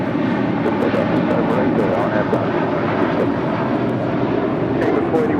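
A jet airliner takes off from runway 25 right at LAX, its loud, steady engine roar filling the whole stretch without letting up.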